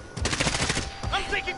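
An automated sentry gun fires a rapid, steady burst in a PS4 first-person shooter. The rattling shots dominate the first second, and a voice speaks briefly over the tail of the burst.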